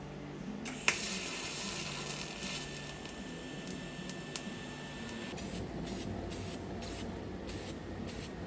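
An aerosol spray can hisses as light coats of paint go onto an art car, starting with one long continuous burst, then several short, evenly spaced puffs near the end.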